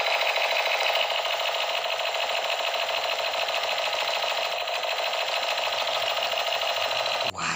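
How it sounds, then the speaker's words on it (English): A toy M16 machine gun fires in one continuous, steady electronic buzzing rattle that runs unbroken for several seconds before cutting off abruptly near the end. "Wow, machine gun again. M16. Let's try."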